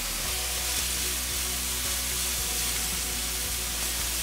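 Mushrooms sautéing over medium heat in a pan with a touch of salt give a steady, dense sizzle with small pops and crackles throughout, close and fairly loud with no talking.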